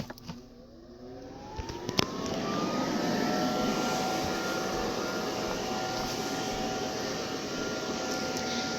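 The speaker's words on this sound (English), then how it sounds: "So I'm just gonna let this guy inflate really quick." A YF80A blower motor inflates a 9 ft Gemmy Halloween inflatable, giving a steady, loud whirring hum with a rising tone that settles and holds, preceded by a brief softer start and a couple of knocks.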